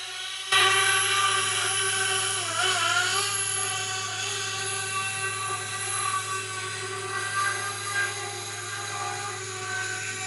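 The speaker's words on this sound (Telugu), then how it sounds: "మన డ్రోన్ అలా పోయింది" A camera drone flies overhead during outdoor cooking in nature, giving off a steady, fairly loud whining buzz that begins abruptly and holds with slight pitch wavers, with no talking.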